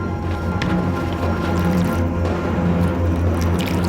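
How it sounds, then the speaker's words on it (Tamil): Blood poured out in a ritual scene gives a wet, squishy drip and trickle lasting a few seconds, heard over a steady low droning background. "ரத்தத்தை ஊத்துட்டுமா? நான் ஊத்துறேன் இரு."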